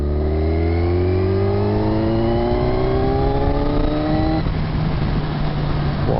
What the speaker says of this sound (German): Jetzt tun wir einfach mal von 30 weg, 6. Gang, Vollgas geben.